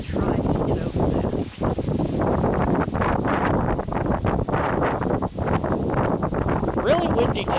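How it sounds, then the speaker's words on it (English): Strong wind buffets the microphone in rough gusts throughout on a mountain, with muffled talk underneath. "Really windy day today."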